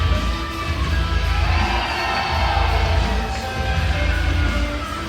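A large wrestling crowd cheers and roars steadily throughout, a dense wash of voices with scattered shouts, sustained at a loud level.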